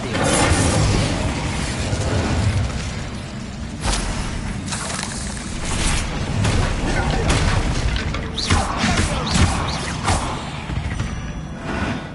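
Incendio fire spell cast in Hogwarts Legacy on PS5, a dense run of crackling bursts, booms and crashing impacts lasting several seconds, with loud combat effects layered over one another throughout.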